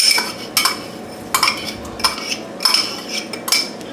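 A utensil stirring dried onion and thyme into a pot of white bean chicken chili gives off a run of light metallic scrapes and clinks in short bursts, close by, with no talking.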